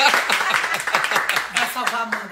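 Small group clapping at an evening house party by a bonfire, a quick uneven patter of claps close by with voices talking and cheering over it throughout.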